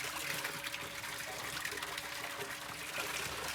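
Water swirls steadily in a vortex, a close, constant gushing and trickling wash of liquid with no pauses.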